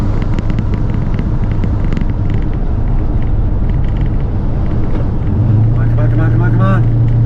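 A Chevrolet C10 pickup truck rumbles along the road with a steady low engine drone and road noise from inside the cab, while someone talks over it.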